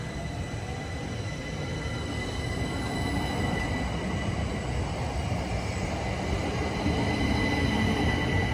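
A Southeastern train heading to Ramsgate via Folkestone and Dover passes through Marden station in Kent, giving a steady, loud rolling roar with a faint high whine that swells slightly toward the end.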